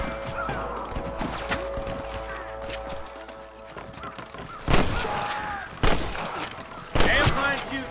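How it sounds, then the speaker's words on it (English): Gunfire in the Western video game Red Dead Redemption, with several loud sharp shots standing out near the end over a busy background of clattering hooves and a steady game tone. "Damn fine shooting, boys!"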